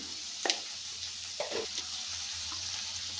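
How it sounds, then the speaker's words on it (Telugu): Vegetable pieces and chopped tomato fry in a pan for veg pulao, a steady close sizzle with a few louder stirring scrapes and no talk over it. "ఇప్పుడు ఇవన్నీ ఈవెన్గా ఫ్రై కావాలి ఒక 1 మినిట్ పాటు"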